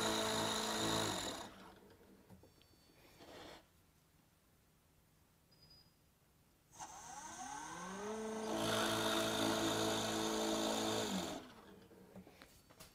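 A drill press motor whines up and runs steadily while drilling holes in a wooden board, goes quiet, then spins up again with rising pitch, close by and moderately loud. Voyager DVR drill press.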